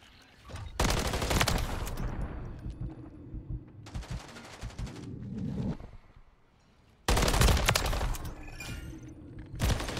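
Automatic gunfire in the video game Modern Warfare 3, in loud, dense, close bursts of rapid shots separated by quieter gaps with thuds and game effects.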